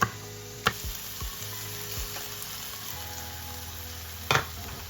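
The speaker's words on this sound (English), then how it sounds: "I am frying 1 slice of bacon and few slices of chorizo" A slice of bacon and a few slices of chorizo fry in a pan with a steady, close, even sizzle, broken by a couple of sharp ticks or pops.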